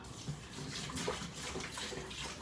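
Filtered water poured into a pan for kuey teow, a steady broadband splashing rush running the whole time at moderate level with no talk.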